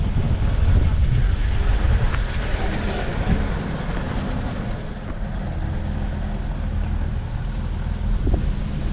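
Strong outdoor wind buffets the microphone with a steady, loud roar throughout, at an outdoor classic car show.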